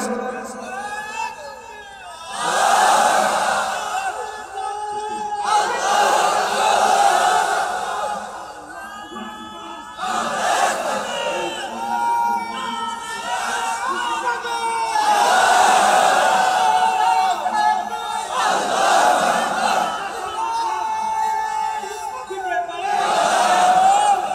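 A large crowd at an Islamic religious sermon gathering chants slogans in loud, repeated collective bursts, alternating with a lead voice calling out between each roar.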